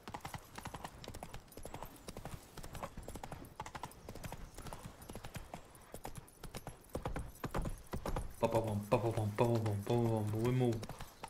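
Horse hooves gallop steadily in The Witcher 3: Wild Hunt while riding, a rapid rhythmic clip-clop throughout, joined near the end by a loud neigh, with someone talking over the game sounds.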